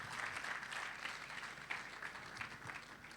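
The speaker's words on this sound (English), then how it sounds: "A round of applause for them," Steady applause from an audience at a real estate summit, a faint, distant wash of many hands clapping continuously without a break.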